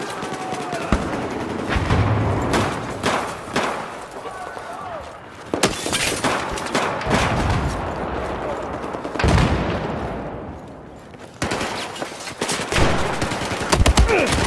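A shotgun fires in the Battlefield 4 video game. Loud, sharp blasts come at irregular intervals, with other gunfire and crashing game noise between them.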